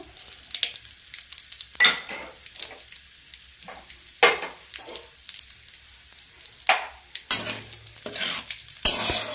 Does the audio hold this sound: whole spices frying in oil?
yes